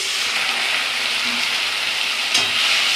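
Spice masala with turmeric and ground black pepper fries hard in oil in a pan, a loud, dense and continuous sizzle that holds steady throughout, with one brief scrape near the end.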